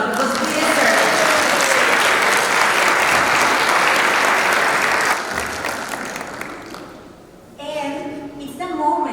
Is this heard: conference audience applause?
yes